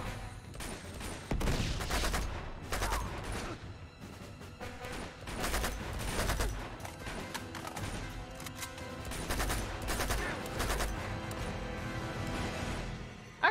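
Sustained gunfire in Uncharted: Among Thieves, a dense barrage of rapid shots and crackling reports that keeps going without a break, with occasional impacts, loud and close.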